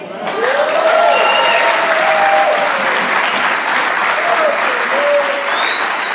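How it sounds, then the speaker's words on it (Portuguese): Loud, steady applause from a church congregation, continuous clapping throughout with scattered voices and shouts rising over it. "Pode aplaudir."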